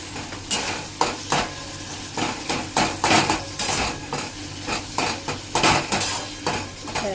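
Food being stirred and mixed in a pan, with repeated scraping and clattering strokes of a utensil against metal over a steady sizzle of frying, close and fairly loud.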